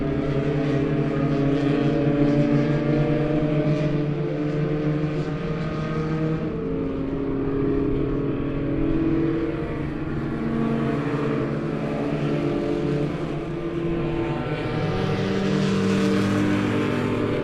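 Race cars in a dirt-track heat race roar steadily at a distance, their engines droning and shifting in pitch as the pack circulates, with a rising rev toward the end.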